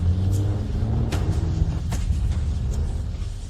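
A fast race car roars by in a dense, rumbling engine blur with a couple of brief whooshing surges, loud and steady throughout with no talk.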